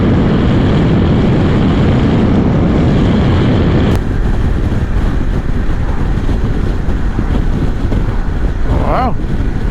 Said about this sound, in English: I can't get over how very smooth the engine is though.